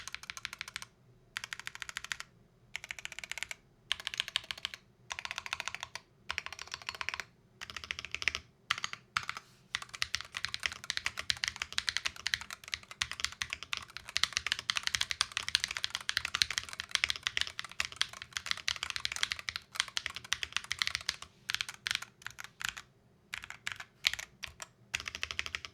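Quick bursts of typing rattle across a Corsair K70 TKL Pro keyboard with Hall Effect switches, a dense run of close clicking keystrokes broken by short pauses.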